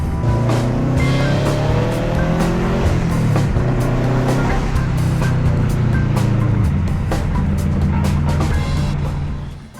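A classic car, the Legacy, is heard from inside while driving, with a loud, steady engine drone and road noise that rises and falls slightly through gear changes.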